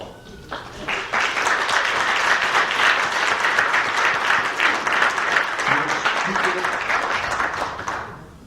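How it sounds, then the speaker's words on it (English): Sustained audience applause fills a school board meeting hall, a dense wash of many hands clapping that stays steady for about eight seconds before tapering off at the end. "Let's try to keep the applause to a minimum, please, so we can get through this."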